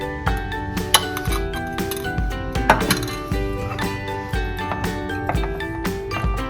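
Saffron food colour being stirred into idli batter in a bowl, with repeated ringing clinks of a spoon against the vessel in an irregular rhythm.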